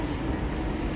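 An express train arriving at a station platform, a brief, steady low rumble of moving rail cars at moderate distance, continuous throughout with no voices.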